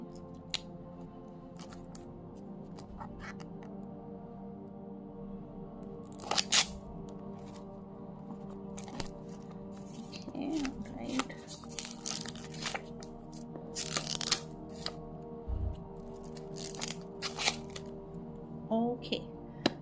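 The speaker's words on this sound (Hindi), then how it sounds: "तो चलिए इसको अब ओपन करते हैं।" Packaging of a Pastel Dreams tarot deck being opened, with soft crinkling, tearing and scraping handling noises that grow busier toward the end, close and fairly quiet.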